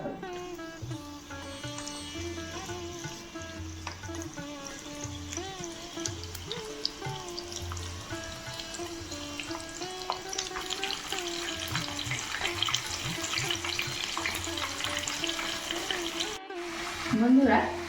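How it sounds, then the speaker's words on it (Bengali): Prawns sizzle in hot oil kept at low-to-medium heat for a crispy Bengali fried prawn snack, a steady frying hiss with soft crackles running beneath a voice throughout. "তেল গরম হয়ে গেছে, এবার এগুলোকে ভেজে নেব।"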